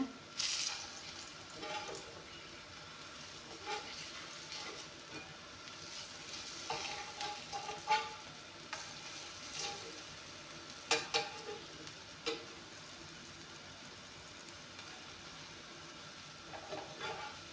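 Malpua frying in oil in a pan, a steady soft sizzle with occasional scrapes and taps as the pieces are turned, close and without talk.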